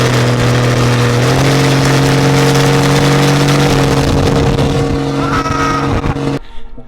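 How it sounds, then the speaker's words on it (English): A Cummins diesel truck pulls away hard, its deep engine roar steady and loud, climbing in pitch before cutting off abruptly near the end. "It's definitely a very nice experience ripping that Cummins around"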